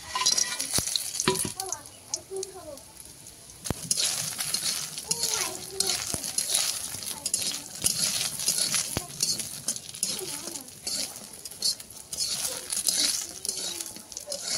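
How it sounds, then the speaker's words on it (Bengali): Steady hot-oil sizzling with bubbly crackle as sun-dried lentil dumplings (bori) fry until reddish, punctuated by sharp clicks and scrapes of stirring nearby; a voice is heard faintly in places. "বড়িগুলো দিয়ে আর লাল লাল করে ভেজে নেব"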